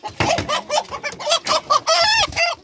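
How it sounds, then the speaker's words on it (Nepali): Rooster and hens on a Nepali village farm, with loud nearby clucking bursts in a broken rhythm and a drawn-out crow near the end, no talking. "यहाँ चाहिँ भाले छ है, दुईवटा ठुल्ठुलो"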